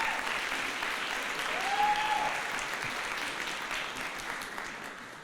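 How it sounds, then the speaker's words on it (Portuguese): An audience at a faith talk gives a team a round of applause. The clapping is steady and fairly soft and continues for several seconds, with a faint tone briefly audible beneath it. "Por favor, dê uma salva de palmas a esse time maravilhoso"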